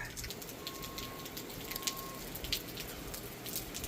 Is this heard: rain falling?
yes